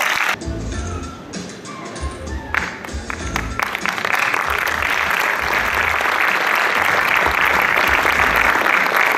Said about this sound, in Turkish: alkışlarınızla sahneye davet ediyoruz